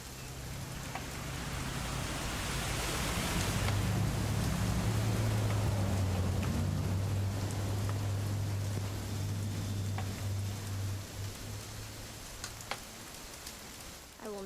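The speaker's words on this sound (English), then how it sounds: "It's gonna rain the whole weekend, isn't it?" Steady rain in the video game What Remains of Edith Finch hisses continuously, with a low rumble underneath and a few scattered drips, moderately loud and unbroken throughout.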